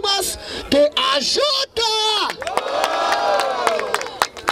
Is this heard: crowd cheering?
yes